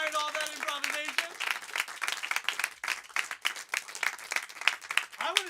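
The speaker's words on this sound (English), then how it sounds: "Give her another round of applause to our monologist who inspired all that improvisation" Audience applause for a monologist at an improv comedy show, dense crowd clapping right after a voice speaks, continuing steadily at moderate loudness to the end.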